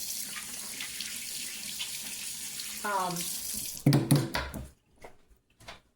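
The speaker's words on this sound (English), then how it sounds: "let me wash my hands again" Tap water runs steadily into a kitchen sink while hands are washed, a close hiss that swells and then breaks into splashes and a few short clatters as the flow stops.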